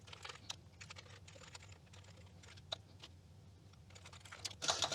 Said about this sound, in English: Testing the keyboard.